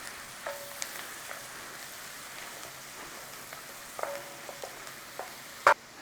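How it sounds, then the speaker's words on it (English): Garlic sizzling faintly in a pan in an Irish pub kitchen, with a steady light crackle and a few scattered taps and scrapes from stirring, ending in a sharper clack near the close. "In there, garlic. We'll stir around."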